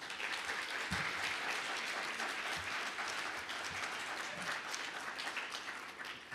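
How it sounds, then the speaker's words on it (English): Conference audience applauding at the end of a panel on work and employment: continuous, even applause from a sizeable crowd, somewhat distant and fairly quiet, with no speech over it. "please give them a big round of applause"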